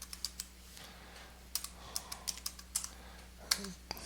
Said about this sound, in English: So I'm going to type in extend